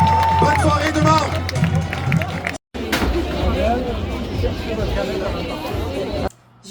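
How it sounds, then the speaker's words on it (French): Audience applause and cheering for the Éclairs de Québec marching band at a ComédiHa Fest evening show, a loud sustained crowd roar with clapping that briefly cuts out midway. "Et une bonne applaudissement pour les éclairs de Québec, la fanfare de ce soir!"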